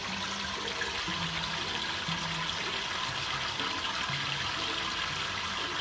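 Steady running water splashes and trickles while a pet bird bathes under it, a constant close rush with faint shifting tones underneath.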